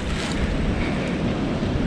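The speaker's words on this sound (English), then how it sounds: "All right, guys, it's windy out here." Strong wind roars across a winter campsite at Martin's Fork Lake in Kentucky, a loud, dense, continuous rush buffeting the microphone with no voices.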